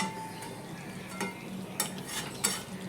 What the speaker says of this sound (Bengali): আমি এখন একটু ভেজে দিই